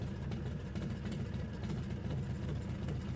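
A motorcycle engine idles steadily after an oil change, a low, even rumble running continuously at a moderate level with no talk.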